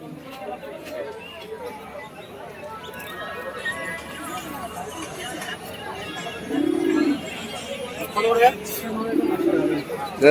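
Pigeons cooing at a busy pigeon market, soft low coos rising near the end beneath constant crowd chatter and people talking close by.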